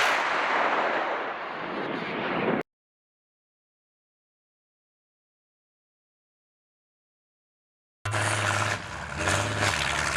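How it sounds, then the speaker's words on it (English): A Russian 2S7M Malka self-propelled gun fires a high-explosive fragmentation shell, a loud, roaring blast that cuts to silence, followed later by a heavy engine rumbling nearby. "Today they are firing high explosive fragmentation shells up to 40 kilometers."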